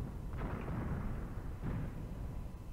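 Pre-planned artillery fire in Graviteam Tactics, set in the Kharkov 1942 campaign: two dull, heavy booms about a second apart rise out of a steady low battlefield rumble, sounding distant and muffled, with no voices.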